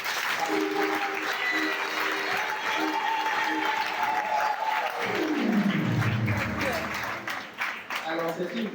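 Congregation in a church applauding steadily throughout, a dense continuous clapping wash with a voice speaking over it and a low tone gliding downward midway.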